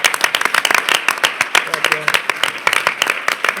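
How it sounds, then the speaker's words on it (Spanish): Loud audience applause closing a round-table talk with a choreographer, with sharp, close hand claps in a quick, uneven rhythm and voices mixed in. "Un aplauso fuerte"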